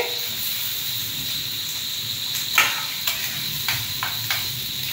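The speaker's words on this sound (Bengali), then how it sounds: "এবার সাদা তেলের মধ্যে আমি দিচ্ছি আলু" Potato pieces frying in hot vegetable oil for fried rice, a continuous close hissing sizzle with a few sharp spatters and clinks of utensils scattered through the second half.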